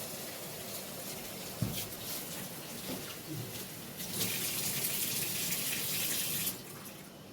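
Kitchen tap water runs steadily onto cabbage in a strainer, a continuous near splash that swells louder and brighter midway before easing back, with no talking.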